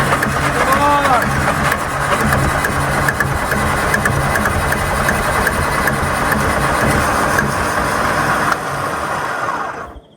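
An engine runs loud and close after being started by its starter motor, a dense steady rumble with faint voices underneath that tapers off near the end.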